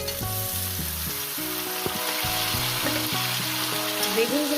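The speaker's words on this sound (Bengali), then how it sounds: "দিয়ে আমি আরো 2-3 মিনিট ভেজে নেব।" Eggplant pieces fry with potatoes in a pan for a fenugreek-greens dish, a steady sizzle close by, overlaid with a prominent background melody.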